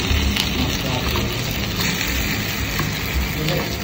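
Mini kachoris sizzle steadily in a pan over medium gas flame, a continuous close crackling fry with faint clinks, and a voice speaking over it.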